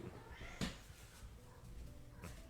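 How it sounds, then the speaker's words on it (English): A cat gives a single short meow, faint and brief, against a low indoor background hum, with a second softer sound near the end. "I guess the cat's here."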